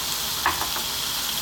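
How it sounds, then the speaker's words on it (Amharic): Onion and garlic frying in a pan for Ethiopian minchet alicha wot, a soft, steady sizzle close by with a couple of faint utensil scrapes, no voices. "ይሄው ሽንኩርታችን እንደዚህ የተጠበሰ ነጭ ሽንኩርት ተጠብሶ ይደርሳል።"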